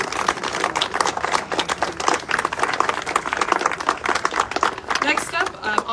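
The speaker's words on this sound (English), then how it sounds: "Let's give another round of applause for Francis." Applause from a crowd at an outdoor press conference, steady clapping that continues for several seconds with a voice speaking over it.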